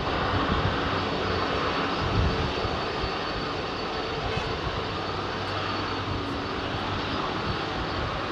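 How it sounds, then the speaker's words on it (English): An Emirates Airbus A380 departing from runway 27R at London Heathrow: a loud, sustained roar of jet engines close by, broad and steady from start to finish. "Fly Emirates 380, love seeing the 380 in action"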